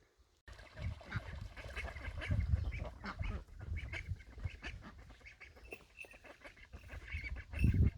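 Ducks quacking around a garden duck pond, a busy overlapping chorus of calls from several birds, fairly close and continuous, with louder bursts near the end.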